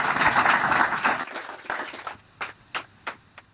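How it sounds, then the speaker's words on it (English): Audience at a React Helsinki tech meetup applauds a speaker, a dense patch of clapping that thins out after a couple of seconds into a few separate, distinct claps. "Let's give some applause to the Mikhail."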